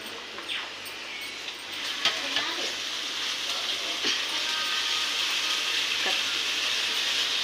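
Ginger garlic paste sizzles and fries steadily in a pan for prawn curry, with stirring scrapes and a few sharper clicks over a constant hiss.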